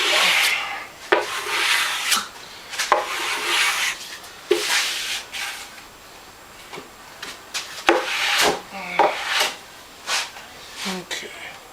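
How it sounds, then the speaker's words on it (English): Wood veneer being scraped down on a floating shelf, worked from the center out, giving repeated rasping strokes in short bursts with pauses between, close and moderately loud. "Scrape it down."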